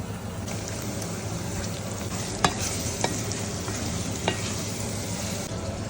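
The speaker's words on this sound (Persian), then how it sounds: "پیازا رو سرخ میکنیم." Onions frying in oil with turmeric and cinnamon, a dense continuous sizzle with a few sharp utensil clicks against the pan while stirring, close and steady.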